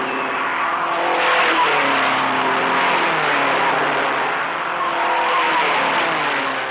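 Race cars of the 1956 Formula 1 season roar past on a track with loud, continuous engine noise and rising and falling revs. Each pass swells and fades as the cars sweep by.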